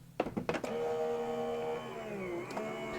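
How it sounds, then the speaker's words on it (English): Electronic die cutting machine processing a paper card: a few clunks as it engages, then a steady motorized whirring hum with shifting pitch, moderately quiet and close, no speech. "bring it over to my die cutting machine"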